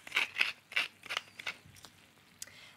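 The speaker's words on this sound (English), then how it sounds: "so a good amount of cracked pepper for this" Cracked pepper ground over pasta in a pan gives a close series of five or six quick crunchy grinding bursts in an uneven rhythm, then a couple of fainter clicks.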